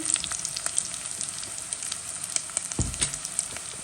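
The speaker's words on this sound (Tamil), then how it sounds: "இப்பொழுது நல்லா வதங்கி வந்து கொண்டு இருக்குது" Ingredients with ground garlic and ginger sauté in a pan for Jaffna crab curry, giving a steady, close, dense sizzle and crackle throughout, with one brief low knock of a stirring utensil late on and no talking.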